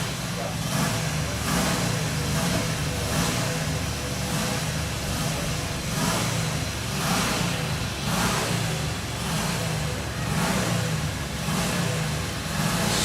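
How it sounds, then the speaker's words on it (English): A 675cc Buckler Bellamy Special hillclimb car sits on the start line at Prescott, its engine revving hard and continuously in rising and falling pulses with a motorbike-like rasp, loud and close throughout. "Sounding very much like a motorbike because it's on the start line, waiting for the red flags to come in."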